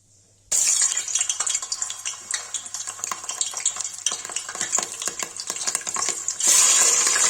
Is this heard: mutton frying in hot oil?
yes